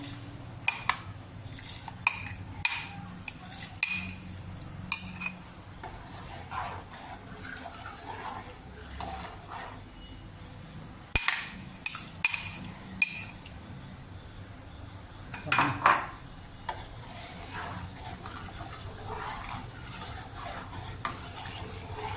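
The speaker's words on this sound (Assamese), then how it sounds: "এই চাউলটো দিয়াৰ পাছত এনেকৈ লৰাই থ'ব, আৰু হাতটো অকণমান আচলতে এৰিব নালাগে, মানে হেতাখন লৰায়ে থাকিব লাগে।" A ladle stirs rice in milk for payas in a metal pot, giving intermittent scraping clinks and taps against the rim over a low simmering background, fairly quiet.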